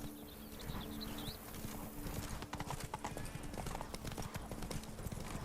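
Geralt's horse Roach gallops in The Witcher 3, hooves pounding in a fast, loud, close rhythm, with a neigh early on and game ambience beneath.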